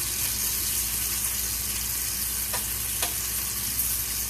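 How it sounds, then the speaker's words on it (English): Bacon strips frying in a pan for a carnivore lunch give a steady, even sizzle that runs the whole time, broken only by a couple of brief clicks of the slices being turned. No one speaks. "at the halfway point, I always like to stop and flip the bacon over"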